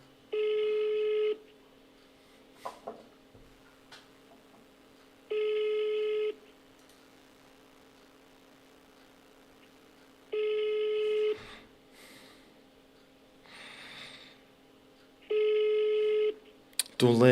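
A telephone rings out on an outgoing call, four evenly spaced ringback tones about a second long, each separated by several seconds of near silence with faint incidental noises between.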